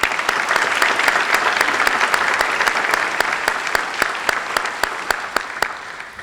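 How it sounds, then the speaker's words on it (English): A scholarship awards audience applauds steadily, a dense wash of clapping with a few sharper individual claps standing out as it slowly fades. "Let's give them a round of applause"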